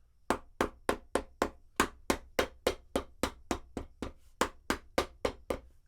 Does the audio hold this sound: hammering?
yes